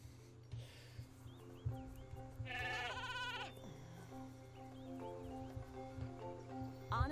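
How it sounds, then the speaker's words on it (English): A sheep bleats in the Skylanders: Spyro's Adventure video game, a short wavering call over steady background game music, with a brief rustle just before it. "Honestly, Hugo, they're just sheep."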